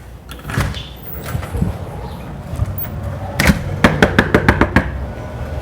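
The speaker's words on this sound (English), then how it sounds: "Knock on the door, making other dogs bark outside." Knocking on a house door, a quick series of sharp raps near the end after a few scattered thumps, close and moderately loud over a quiet room.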